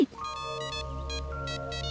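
A phone rings in a dubbed Hindi comedy film, sounding as a repeating electronic ringtone with pulsed tonal bursts over a steady hum, clear and close.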